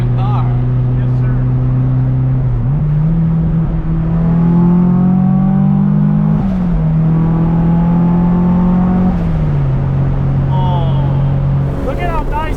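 SR20-swapped Datsun 240Z driving at speed, a steady engine drone that climbs in pitch through a gear change while people talk over it inside the car.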